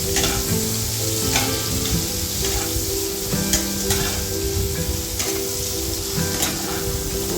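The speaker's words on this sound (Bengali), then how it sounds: "চেরা কাঁচা লঙ্কা এবার দিয়ে দিচ্ছি পেঁয়াজ পেঁয়াজটাকে ভালো করে ভেজে দিচ্ছি" Onions and slit green chilies frying in a little oil, a loud, close, steady sizzle broken by repeated scraping and tapping as the spoon stirs, with no one speaking.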